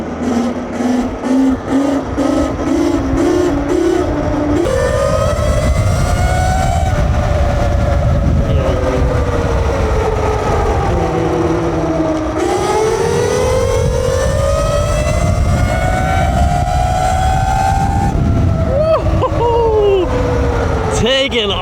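An Alibaba EM22 72V electric bike hums loudly while riding, its motor whine gliding up and down in pitch as speed changes over steady road and wind noise, heard close throughout.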